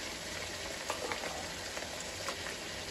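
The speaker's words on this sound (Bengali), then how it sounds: "এখানে আমি দিচ্ছি এখন পেঁয়াজ বাটা" Onion paste frying in oil in a pan for Eid beef curry on a medium flame, a quiet steady sizzle with small pops and occasional stirring scrapes, no talking.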